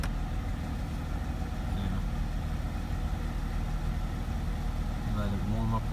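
A 2004 Mercedes SLK 320 engine idles while warming up after flood damage, holding a steady low hum close by, with someone speaking over it.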